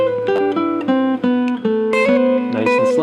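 Solo guitar picks a slow chord melody line, single notes and chord stabs stepping along clearly and close, with no voice.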